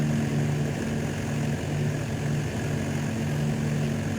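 Propeller engines of WWII bombers flying in tight box formation give a steady, loud droning hum with a low, slightly pulsing throb that holds constant throughout with no voices.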